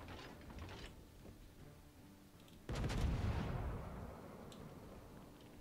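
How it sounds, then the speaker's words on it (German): Naval gunfire in the World of Warships video game: a sudden heavy boom lands midway, rumbling and decaying over a couple of seconds after quieter mechanical clatter, with no talk. "So, wieder an die Geschwindigkeit der Schüsse gewöhnen."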